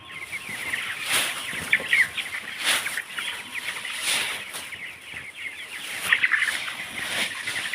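Chickens on a poultry farm, one infected with a virus, cluck and call repeatedly at moderate volume against a steady farmyard background, with no talking.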